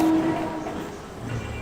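Mumbai local train, a brief rumble of rail cars with a short horn-like tone at the start and a low hum near the end, fairly close and loud.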